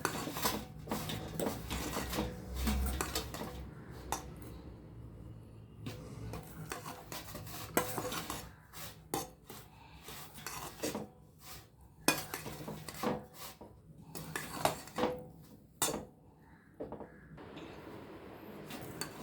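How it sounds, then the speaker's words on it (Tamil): Dry almond drink powder being mixed in a bowl, with repeated scraping and clinking of a spoon against the dish in uneven bursts, close and moderately loud, no talking. "எல்லாமே நல்லா மிக்ஸ் பண்ணிக்கிறணும்"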